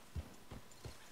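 Three heavy, evenly spaced hoofbeats from a horse in Red Dead Redemption 2 thud close and clear over a quiet game background, with no talking.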